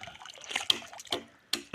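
A thin trickle of cold spring water drips and splashes at a roadside mountain spring in the Karnah valley, faint and close, with the flow running low.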